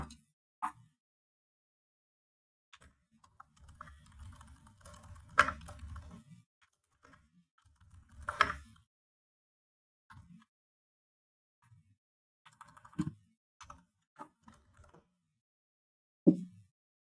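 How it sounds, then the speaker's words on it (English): Keys clatter on a computer keyboard in scattered bursts of typing with pauses between them, close and fairly quiet, with a few louder isolated key hits. "So let me finish typing that up here."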